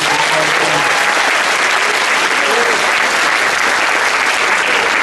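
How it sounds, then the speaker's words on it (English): Loud, dense audience applause at a high school Veterans Day program, a sustained roar of many hands clapping at once with no break across the whole stretch. "Give him a round of applause."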